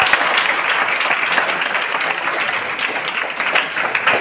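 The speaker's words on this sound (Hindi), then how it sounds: "हमारे शंकर सर जी के लिए जोरदार तालियां होनी चाहिए।" An audience at a speech event breaks into loud, dense applause, many hands clapping steadily and close together for several seconds without pause.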